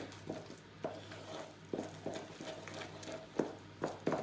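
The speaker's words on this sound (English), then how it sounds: "I'm just going to mix that through because it goes a lovely green colour with the pesto" A spoon working pesto through a sticky beer bread dough in a bowl, producing repeated soft thuds and scrapes at an uneven rhythm, close and fairly quiet with no voices.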